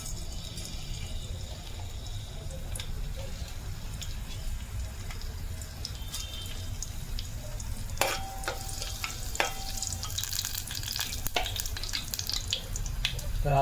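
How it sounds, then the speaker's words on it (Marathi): Whole spices fry in hot oil for a Marathi bangda fish curry, a steady low sizzle with occasional stirring clinks and scrapes growing busier toward the end, no talking. "तर तेल घातले अगोदरच. आता हे आपले खडे मसाले."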